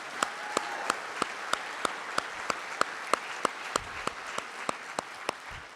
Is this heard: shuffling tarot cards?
no